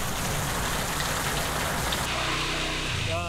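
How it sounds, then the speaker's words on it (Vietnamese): Heavy rain pours steadily in the Mekong Delta countryside of southern Vietnam, a loud, dense hiss of drops on surfaces that continues unbroken, with a low hum rising near the end. "đây trời mưa"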